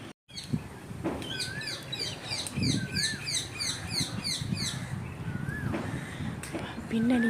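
Outdoors in nature, a flock of parrots chirps repeatedly in quick, high, bright calls. The birdsong carries on throughout under a person talking.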